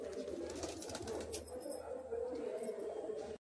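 Several Madras pigeons coo in a low, continuous chorus just after release from a cage, close by and fairly steady, with a faint voice briefly underneath.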